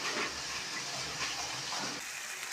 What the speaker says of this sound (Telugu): ఇలా కలుపుకుంటూ ఫ్రై చేసుకుంటే ఏంటంటే మాడకుండా ఉంటుంది, ఉల్లిపాయలు కూడా మంచిగా ఫ్రై అవుతాయి